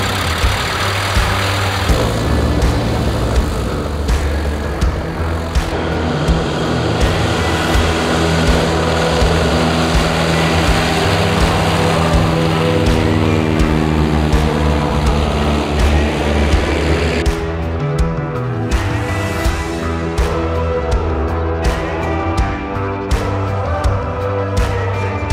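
An Avid Flyer light aircraft engine drones steadily in flight at reduced power below cruise, a loud continuous propeller-driven hum with a slight shift in tone partway through.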